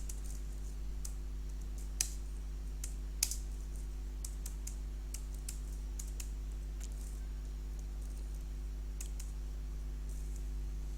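Typing on a computer keyboard while entering school and institute details into an Excel marksheet, heard as sparse, light key clicks scattered across the stretch over a steady low electrical hum, with no talking.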